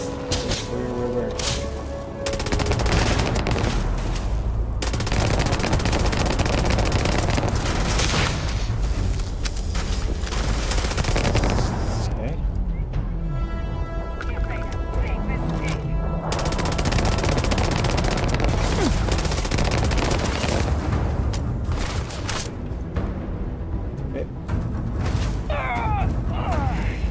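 Sustained, dense gunfire in a Starfield deathmatch mod match, rapid automatic shots and mechanical clatter going almost nonstop at close range, with voices talking over the fight.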